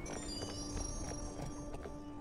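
A horse trots in the Barbie Horse Adventures video game, with a steady, continuous clip-clop of hooves under game music and ambient tones. No one talks.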